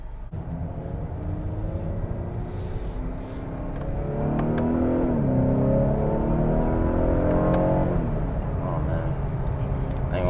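A 2020 Honda Accord Sport 2.0-liter turbo engine revs up and holds a high, rising drone, loud and close, with a steady throaty rumble underneath.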